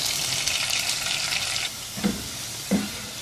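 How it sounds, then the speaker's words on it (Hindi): Onion slices sizzle steadily in hot oil while frying to light golden, a close bright hiss that drops a little partway through, with a couple of soft stirring knocks. "हल्का सुनहरा इस प्याज को फ्राई करना है।"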